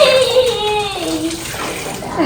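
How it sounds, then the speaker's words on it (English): Water runs steadily from a tap as a child washes dishes, a close continuous stream with a voice and an adult's gliding tones over it. "Oh, Rose, you're done washing dishes?"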